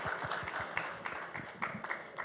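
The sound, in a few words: audience applause for Sanjay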